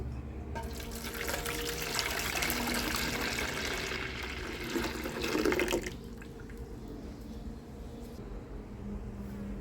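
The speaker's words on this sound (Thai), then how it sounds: "ใส่น้ำยานางนะครับ" Yanang leaf juice pours into a pot of bamboo shoot curry, a steady close splashing stream for about five seconds that then stops, leaving quiet kitchen background.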